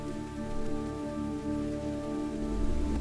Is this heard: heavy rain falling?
yes